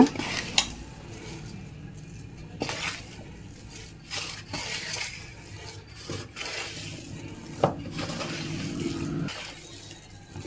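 Spoon stirring a mashed sweet potato and jaggery filling in a metal pan, soft repeated scrapes and occasional clinks against the pan, fairly quiet and close, with no voices.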